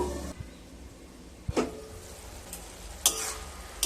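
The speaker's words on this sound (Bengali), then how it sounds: "আবারও খুব ভালোভাবে মিশিয়ে নিচ্ছি" Bottle gourd shukto stirred in a pan with turmeric, heard as a soft frying sizzle with several sharp scrapes and clinks of a spoon against the pan, close by and without talking.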